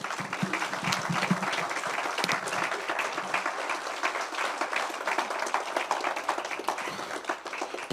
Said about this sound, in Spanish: Yo le daré un aplauso al Señor